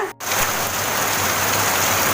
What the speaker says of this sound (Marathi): आता ना एकदम जोरदार पाऊस पडतोय बघा